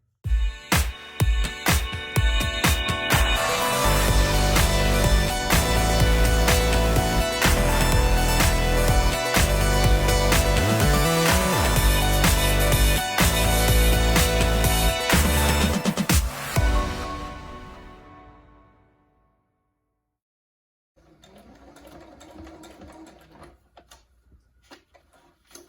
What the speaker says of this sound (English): now I'm going to sew here and here